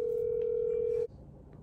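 A single steady telephone tone from a call being placed rings out for about a second, then cuts off, leaving a faint low background hum.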